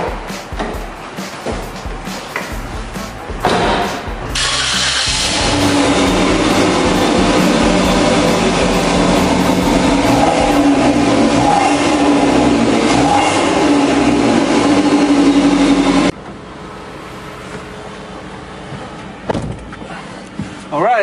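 A Suzuki Jimny JB74W fitted with an HKS GTII supercharger drives on the road: a loud, steady engine and road roar builds after a few seconds of quieter rumble, holds for about twelve seconds, then drops back to a lower drone.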